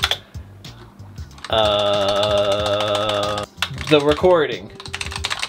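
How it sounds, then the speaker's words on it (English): Rapid clicking of computer keys in bursts under a steady electronic tone, with a person speaking briefly partway through. "Actually, I'll type that."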